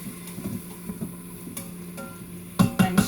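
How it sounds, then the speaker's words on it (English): Vegetables for chicken cacciatore sizzling in a pan, a quiet steady frying hiss with light stirring, then a few louder clatters of a utensil against the pan near the end. "I'm sure you can hear it sizzling away"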